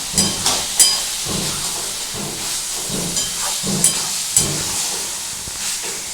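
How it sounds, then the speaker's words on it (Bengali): Snake gourd and prawns frying in a pan give off a constant hissing, steamy sizzle, with a few spatula knocks and stirring strokes rising over it at close range and no voices. "এটাকে আর একটু ভালো করে আমি ভাজবো"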